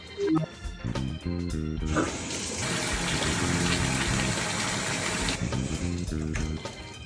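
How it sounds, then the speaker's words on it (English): Hot water gushes steadily into a bathtub for the middle stretch, a loud broad rush framed by quieter tapping and knocking before and after. "fill bathtub or large container with hot water"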